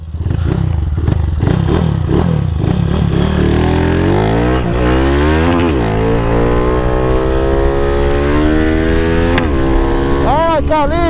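Honda Start 230 motorcycle on the street, its engine loud and close, revving up through rising pitch in repeated acceleration sweeps, with a voice shouting over it.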